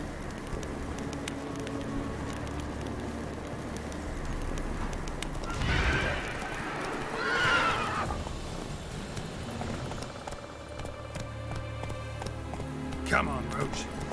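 Roach, the horse in the video game The Witcher 3, gallops with steady clip-clop hoofbeats, and loud neighs and whinnies rise midway and again near the end while a voice talks over the action.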